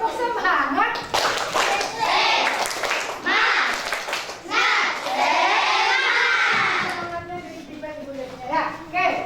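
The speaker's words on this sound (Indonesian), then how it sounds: "tepuk semangat" A classroom of children performs a rhythmic spirit clap, bursts of patterned hand claps mixed with loud chanting and shouting voices, with a few pauses between clapping phrases.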